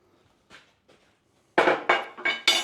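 A steel plate is set down on a metal table: first two faint taps, then four loud, ringing metallic clanks in quick succession, close by and with no talking.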